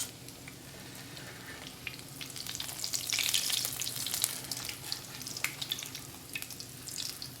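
Potato tacos filled with chorizo and cheese fry in hot oil, giving a steady close crackling sizzle that swells louder midway and then settles, with no talking.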